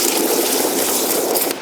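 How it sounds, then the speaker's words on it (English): Water and car wash soap are sprayed from a nozzle into a wheel bucket while washing a Mercedes AMG GT, a steady close hiss of rushing, foaming water that cuts off abruptly at the end. "Spray a good amount in there, and you just foam it up."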